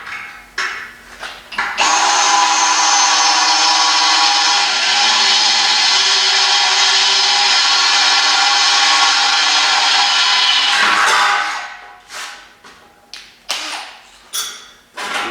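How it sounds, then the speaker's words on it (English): A Milwaukee 18-volt cordless drill bores a small pilot hole through a streetlight pole, a loud, steady whining grind lasting about nine seconds, then stopping into scattered clicks and handling knocks. "I'm going to drill my little pilot hole through first, and then chase it with the 1/2 inch bit"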